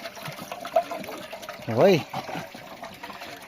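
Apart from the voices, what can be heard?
water being poured into cattle feed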